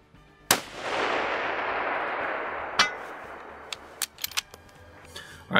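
An AI rifle fires a standard 175 grain match bullet at a 1,000-yard range target: one sharp, loud crack followed by a long decaying outdoor echo, then a few metallic clicks and clacks of bolt handling close by.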